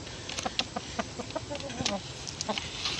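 A laying hen on a backyard farm gives short, scattered clucks at close range over a steady outdoor background, with faint voices nearby.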